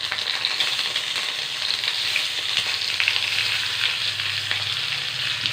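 Eggplant pieces fry in oil with curry leaves, a dense, loud, continuous sizzle with faint crackles and occasional soft stirring knocks, no voices.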